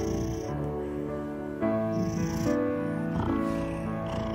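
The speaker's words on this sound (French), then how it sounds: "Tu ronronnes fort, hein," A cat purrs loudly and close up, a continuous rumbling vibration that swells with each breath.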